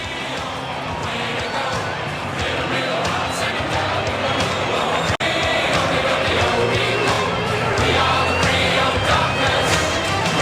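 A large stadium crowd of Fremantle football fans roars and cheers continuously at full volume, a dense wall of shouting voices with a sharp click midway.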